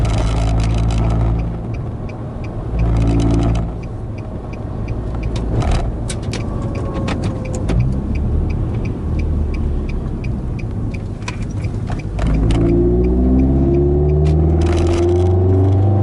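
A car engine revs hard in bursts while the vehicle slides and corners on loose ground, loud and close, surging up and dropping off several times, with gravel and scrub scraping between throttle blips.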